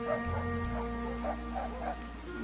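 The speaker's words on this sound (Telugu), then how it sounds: "కుక్కలు మరుగుతాన్నాయి" Dogs bark repeatedly in a quick run of short yips and woofs at moderate distance, set against a steady low drone and a faint tonal hum, with no one talking.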